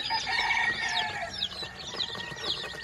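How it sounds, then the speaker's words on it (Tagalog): Chickens and chicks in a backyard cluck and cheep together, with busy high peeping and clucking calls overlapping continuously at a moderate distance, fairly faint. "Manok nila o. Ayan o. Ayan o. Mga sisiu."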